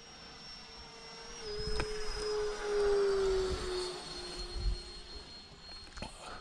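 An E-flite Viper Jet model with a 70 mm electric ducted fan flies past, its thin high whine steady at first, then swelling into a louder whooshing pass before fading off.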